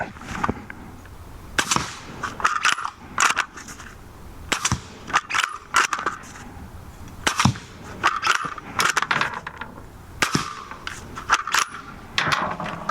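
A suppressed 300 Blackout bolt-action rifle fires several muffled shots. Sharp mechanical clacks are spread irregularly across the stretch, heard close and without talk.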